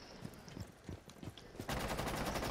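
Rapid gunfire from Rainbow Six Siege, a burst of close shots followed by dense sustained automatic fire that swells loudly near the end, with no talk over it.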